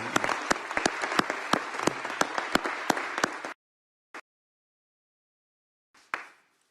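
Audience applause at an IOC session, a few seconds of dense, lively clapping with sharp individual claps that cuts off abruptly, followed by silence and two short faint bursts later.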